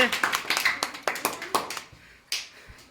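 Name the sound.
applause, people clapping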